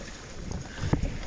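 Steady wind rushes over the microphone while waves about a metre high slosh and slap against a canoe at sea, with a couple of louder splashes near the end.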